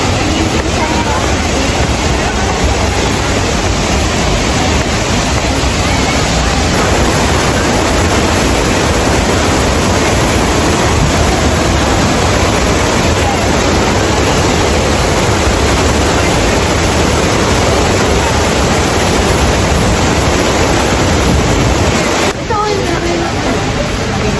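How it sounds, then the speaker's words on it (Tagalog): Shifen Waterfall in Taiwan roars as a loud, steady, broadband rush of falling water. It fills the whole stretch without pause, close and constant, and a faint voice may sit underneath. "Dito na tayo sa Shippen Waterfalls."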